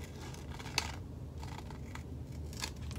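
Scissors cut along the dashed lines of a fabric pattern for a tote bag, giving a few soft, crisp snips spaced out over a quiet room background.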